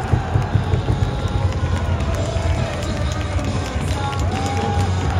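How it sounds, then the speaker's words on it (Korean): Crowd at the Gocheok Sky Dome baseball stadium cheering and applauding during a Kiwoom Heroes season-opening game, a dense, steady roar of many voices and clapping that fills the whole stretch with a few louder swells. "뜨거운 박수 항상 부탁드리겠습니다"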